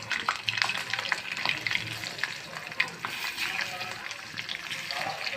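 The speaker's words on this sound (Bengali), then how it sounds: "এখন আমি সবগুলো চিংড়ি মাছ আমি দিয়ে দিব।" Prawns frying in hot refined oil in a pan give a steady close sizzle with scattered crackles and occasional stirring clicks, while a voice talks faintly at times.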